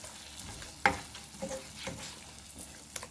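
Soft stirring of sauce into pork chops in a pan over a very low flame, with faint scraping and a gentle sizzle, a few brief clinks of the utensil against the pan.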